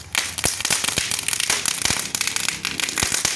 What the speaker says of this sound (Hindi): कलर के नाम पे तो पटाखे फूट रहे हैं